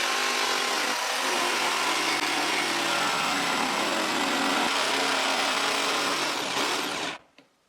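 A jigsaw cuts the outer circle of a round frame from glued oak planks, running steadily and loudly for about seven seconds before stopping abruptly.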